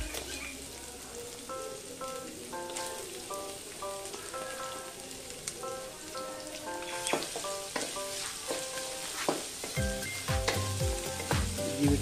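Finely chopped onions sizzling in a pan with curry leaves for a quinoa vegetable khichdi, a steady dense crackle with scattered pops, while soft background music plays and a few clanks of stirring come near the end.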